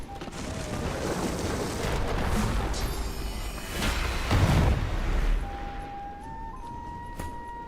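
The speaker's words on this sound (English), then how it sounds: "Explosion!" Explosion in the Divinity Original Sin 2 video game: a dense, loud burst of crackling blasts building to a heavy boom, then tapering into a quieter tonal hum.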